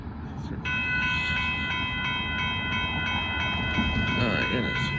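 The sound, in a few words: southbound Amtrak Texas Eagle passenger train approaching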